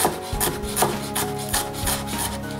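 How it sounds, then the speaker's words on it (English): A knife chops a shallot finely on a cutting board, giving steady, close, rhythmic thuds and scraping strokes at a quick even pace, with no talking. "Cut it nice and fine, chop it down."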